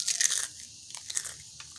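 Crisp peanut crackers (peyek kacang), made without candlenut or coconut milk, crackle and snap as they are crumbled by hand, a few sharp close crunches in short bursts.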